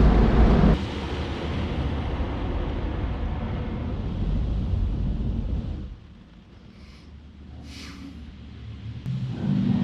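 Powerful roaring car wash air dryer blasts steadily for several seconds, drops off briefly to a quieter hum, then surges back at full force.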